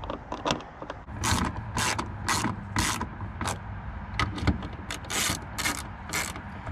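Ratcheting crank tightening a Nissan Xterra side mirror mount, a run of dry clicking, creaking strokes at close range, repeated steadily with brief pauses between bursts and no talking.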